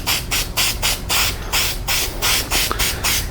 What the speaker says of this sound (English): I am also going to coat the gaskets for the front cover with Permatex spray gasket.